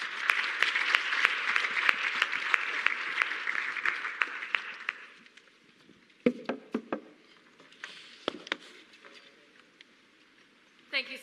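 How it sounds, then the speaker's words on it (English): Audience applause for a panel at a climate resilience symposium, steady dense clapping for about five seconds that then thins into scattered, fading claps with gaps. "maybe a round of applause for the panel"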